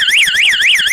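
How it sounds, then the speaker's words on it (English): A household fire alarm sounds during a test, very loud and close, with a rapid rising-and-falling electronic warble that keeps cycling and has no voices over it. "That's the alarm."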